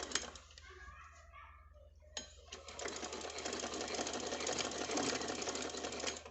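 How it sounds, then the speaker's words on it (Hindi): A sewing machine winds thread onto a bobbin: quiet at first, then the motor starts and settles into a close, steady, fast whirring hum that runs to the end. "अभी इसमें ये धागा घूम रहा है और धागा भरना शुरू हो चुका है।"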